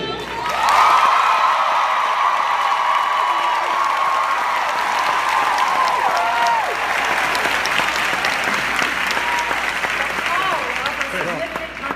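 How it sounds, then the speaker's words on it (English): Big audience applause at the 2016 Essence Festival awards, a loud, sustained wash of clapping from a large crowd with scattered cheers and whoops, holding steady for the full stretch. "audience, we need big, gigantic applause"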